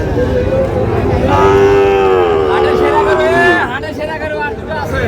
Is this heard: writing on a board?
no